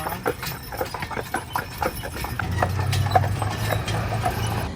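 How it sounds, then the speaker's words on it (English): Suffolk horses walk on a ride in Montrose, Colorado, their hooves clip-clopping in a steady, moderately close rhythm over a low rumble, with no clear speech. "So we just did a free ride on these horses"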